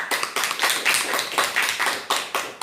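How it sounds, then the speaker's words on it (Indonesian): Small audience at an elementary school teachers' evaluation clapping for two teachers, close, uneven bursts of hand claps with distinct individual slaps. "Kita tepuk tangan untuk beliau berdua"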